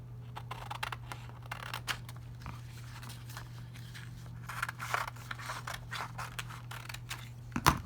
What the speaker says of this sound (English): So this panel off the sheet I'm just going to cut out.